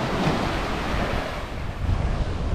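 Sea waves break and wash on Akumal beach in Mexico, with clear water. A loud, steady roar of surf mixes with wind buffeting the microphone, and no voices are heard.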